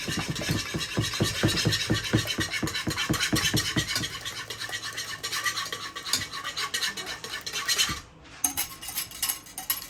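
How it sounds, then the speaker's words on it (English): A whisk scrapes rapidly and rhythmically against a pot of lemon pie filling thickened with egg, close and continuous, slowing near the end with a brief pause before a few more strokes. "you're just going to keep whisking, and it's going to start to get thick"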